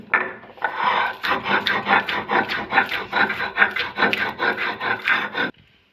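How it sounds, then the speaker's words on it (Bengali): Mung dal is ground by hand on a stone slab, a shil, a rough rasping scrape repeated in steady rhythmic strokes of about five seconds, close and clear before it stops abruptly. "সব ডালগুলো আমি এইভাবে বেটে নেব।"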